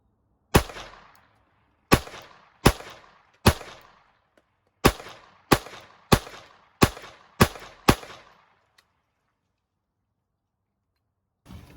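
Ten sharp pistol shots from a Glock 44 fired in an uneven series, each crack loud and close with a short decaying tail, then a long silence and a faint final click.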